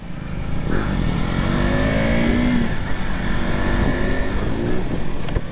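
Several KTM motorcycles set off together at the flag-off of a group ride in Lucknow. Their engines rev up close by with overlapping rising and falling pitch sweeps over a constant rumble.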